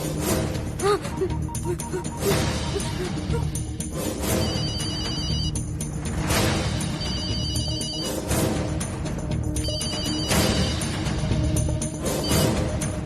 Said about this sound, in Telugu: ఫోన్ ఇదిగో